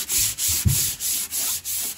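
Wooden beam joints in a caravan being sanded, a loud, close, continuous rasping with a regular back-and-forth rhythm of about six strokes, each briefly dipping between passes, and no voices.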